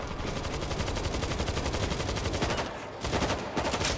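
Rapid, loud automatic gunfire from an auto turret in the zombie shooter World War Z, a dense continuous burst of shots with a brief dip near the end before it resumes.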